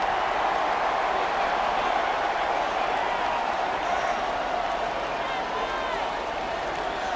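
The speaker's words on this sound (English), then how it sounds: "This crowd is making it tough down deep in the red zone." Steady roar of a stadium crowd in a Madden NFL 26 Texans vs. Titans football simulation, loud and continuous throughout with a commentator talking over it.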